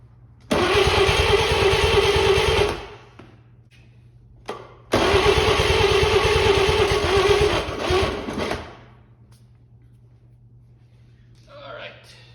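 An 80-year-old Chevy 216 inline six engine that had long sat dead cranks and catches twice, running roughly for a couple of seconds and then about four seconds, close and loud, with quiet gaps between.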